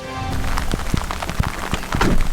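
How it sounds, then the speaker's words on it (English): Rain falling in the Rockies, heard as scattered close taps and drips on a surface, irregular and fairly loud, with a steady wash of rain building toward the end. "the rain is absolutely downpouring now"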